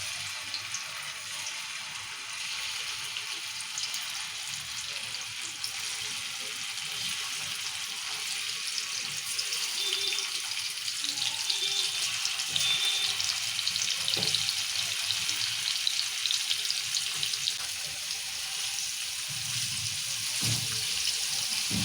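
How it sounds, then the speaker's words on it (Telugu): Paneer frying in oil in a pan for a masala paneer curry, giving a steady, fairly loud sizzle with a watery hiss that runs continuously throughout and carries no talk over it. "కొంచెం నూనె పోసుకుందాం. మళ్ళా పన్నీర్ వేసుకుందాం ఇప్పుడు ఇలా."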